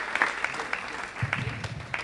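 Applause from a crowd at Félix-Eboué airport in Guyane greeting Gemina Joseph, a brief burst of scattered clapping with a voice talking over it.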